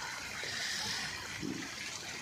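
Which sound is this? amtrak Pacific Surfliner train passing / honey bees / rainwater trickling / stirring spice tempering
rainwater trickling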